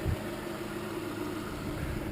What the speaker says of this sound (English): I think my engine in my 95 is just a hair quieter.